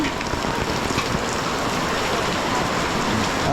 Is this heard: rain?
yes